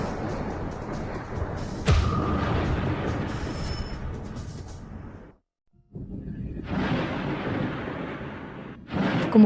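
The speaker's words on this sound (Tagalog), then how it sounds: "Kumukulog." Heavy thunder rumbles in long, rolling waves, loud and close, with a sharp crack near the start, a brief silent gap midway, then the rumbling resumes and swells toward the end.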